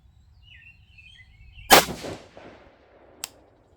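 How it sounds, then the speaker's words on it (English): Single cold bore rifle shot from a 6.5 Grendel firing a 130gr ELDM: one loud, sharp crack with a decaying tail, a faint later knock, and soft birdsong before it. "Now this is a cold bore shot, and we're just going to roll with that."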